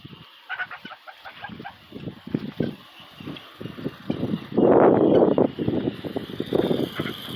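Guinea fowl clucking and calling in a rural Brazilian yard alongside a mother duck and ducklings, with repeated choppy cackles and a louder burst of squawking midway, fairly close.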